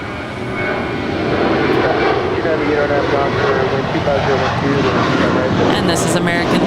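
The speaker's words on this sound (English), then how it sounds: "this is American 1331 off to Dallas Fort Worth, an A321" An American Airlines A321 jet departs LAX for Dallas Fort Worth, its engine roar building quickly and holding loud and continuous, with a voice talking over it.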